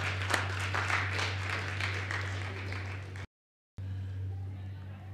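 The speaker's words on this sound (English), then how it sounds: "So give them a round of applause." Applause fills a large crowd at a CARIFTA Games recognition ceremony, dense and steady at moderate distance over a constant low hum, then cutting out briefly before resuming.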